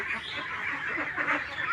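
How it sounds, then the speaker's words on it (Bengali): Ducks huddled together in a shed during cold, rainy weather: a dense flock gives continuous overlapping nasal quacks and honks, close by and moderately loud, with no talking. "এখন যেহেতু ঠান্ডা পড়েছে, বৃষ্টি, সেজন্য হাঁস সবগুলো গাদাগাদি করে বসে আছে।"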